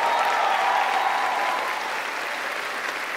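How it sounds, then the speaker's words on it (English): Comedy show crowd applauding at The Macon Comedy Special, a loud dense burst of clapping close to the room that eases slightly toward the end, with no talking over it. "Y'all just clap it up for what they doing"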